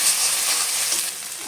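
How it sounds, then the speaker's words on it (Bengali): Spice paste with turmeric sizzles and is stirred in a hot pan for an egg and hog-plum curry, making a brief, loud, dense hiss close by without any talking. "এবার মশলাটা ভালো করে কষে নেব।"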